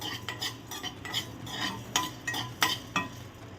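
Poppy seeds stirred and roasted in a pan for a Thanjavur mutton curry: a series of sharp metallic scrapes and clinks from the spoon against the pan, spaced irregularly over a faint sizzle, close and fairly loud.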